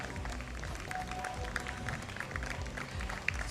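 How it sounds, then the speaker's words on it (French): Audience applauding at a fashion show presentation, a steady wash of clapping from a crowd with a few sharper individual claps standing out, fairly distant and continuous throughout. "On applaudit très très fort."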